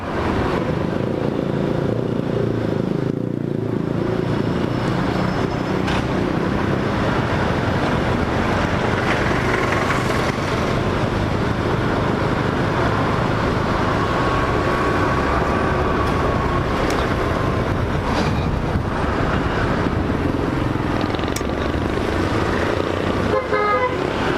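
Continuous road traffic rumble and wind noise during a ride on a Suzuki Access 125 scooter, with car horns tooting repeatedly over the steady engine and tire drone.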